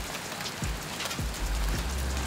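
Hail falling in Queensland, a steady dense patter across a surface like heavy rain, with a few low thumping impacts mixed in, loud and continuous without talk.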